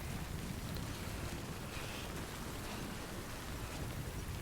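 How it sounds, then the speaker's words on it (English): Steady in-game rain in Death Stranding: Director's Cut hissing continuously, a dense wash of noise with a low rumble underneath, no voices. "It started raining out by me just now"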